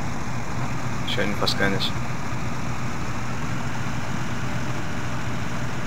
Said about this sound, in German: Gott, ist der Traktor lauter.